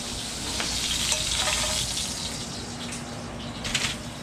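A rack of lamb sears in a hot pan, giving a steady close sizzle and hiss with faint crackles and a low hum underneath, and no voices.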